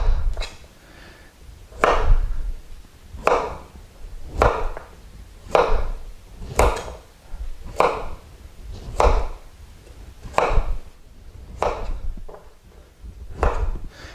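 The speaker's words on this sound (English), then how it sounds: "You cut it on a diagonal, and then you take your carrot, flip it all the way over 100 degrees." A kitchen knife making oblique diagonal cuts through a carrot, heard as about a dozen crisp, close chops on a cutting board in a steady rhythm, each chop roughly a second apart.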